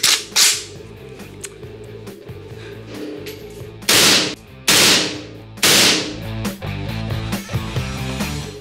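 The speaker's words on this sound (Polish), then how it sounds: "Słuchajcie, no postrzelamy sobie z kałasza." Kalashnikov AK rifle fired at a shooting range, sharp loud cracks ringing out singly and in quick bursts, with some music-like tonal background throughout.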